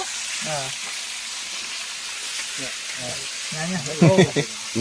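Beef frying in a hot pot, a steady sizzle with occasional stirring, while people talk nearby and a louder burst of voices rises near the end.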